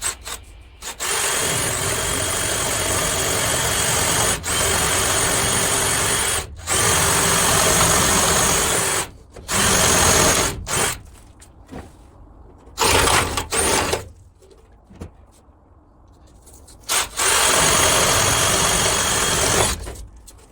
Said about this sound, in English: Oh look, me drilling a hole.